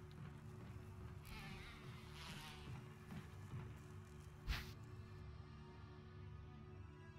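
Bees buzzing in the video game Resident Evil HD Remaster, a faint droning hum under a low ambient bed, with a brief louder rustle midway.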